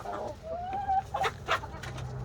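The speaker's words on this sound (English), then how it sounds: "these are the roosters over here" Several close clucks and short squawks from roosters, one drawn-out call among them, over a low background hum.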